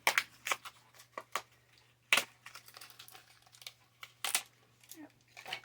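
Wrapping paper crinkles and rustles in repeated crisp bursts while kitchen items are unpacked, close by, with a low steady hum underneath.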